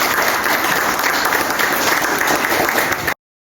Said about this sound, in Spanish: nos sirve un aplauso para...